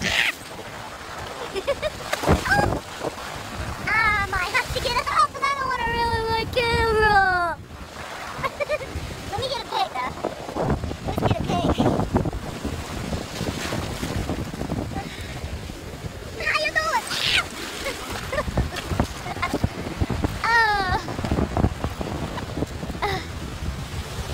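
Ocean waves and surf crash and splash around a person riding an orange float, with continuous close water churn and wind buffeting the microphone while a person talks excitedly over it.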